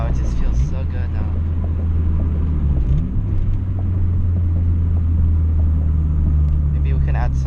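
A 2012 Honda Fit fitted with a Beatrush engine mount and Spoon rigid collars, driven on the road with a steady low engine drone and cabin rumble, the pitch shifting briefly as it changes speed, with voices talking inside the car.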